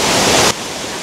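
A waterfall and river running high after heavy rain make a loud, dense roar of rushing water. The roar drops sharply halfway through but continues at a lower level.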